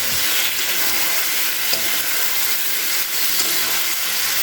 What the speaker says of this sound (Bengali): এটা দেওয়ার পরে খুব ভালো করে আবার একটু নাড়াচাড়া করে নেবো তিন চার মিনিট